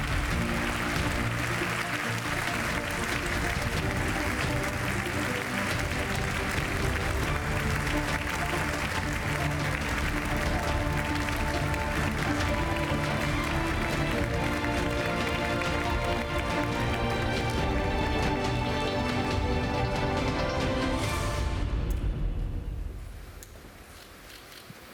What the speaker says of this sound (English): Professora Margarita Salas Falgueras, big round of applause, the winner of the Popular Prize